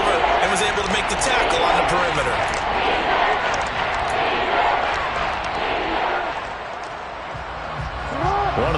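Stadium crowd in the Madden football video game builds a broad, steady roar with whistles and swells, heard under a commentator talking over most of the stretch.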